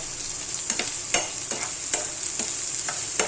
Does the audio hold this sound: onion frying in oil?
yes